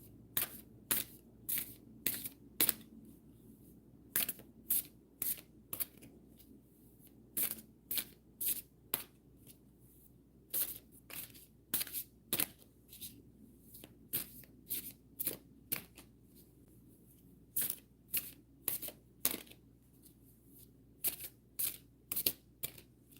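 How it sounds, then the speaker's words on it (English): Animal oracle cards are shuffled in quick, crisp riffling bursts that repeat with short gaps, close to the microphone in a quiet room. "I'm going to go ahead and pick an animal card for you."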